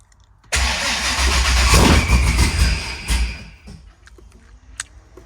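A ProCharged LSX engine in a Corvette C6 Z06 on Haltech management cranks and fires abruptly, roaring loudly for a few seconds before settling into a lumpy, rougher idle with sharp pops, close up with no talking.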